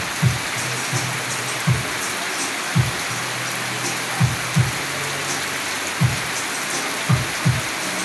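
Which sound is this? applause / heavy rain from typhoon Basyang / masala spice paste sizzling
heavy rain from typhoon Basyang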